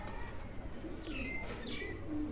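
Faint, soft cooing from Teddy-cross pigeons kept in breeding pairs, a few low murmuring calls over a steady background hiss with no voices.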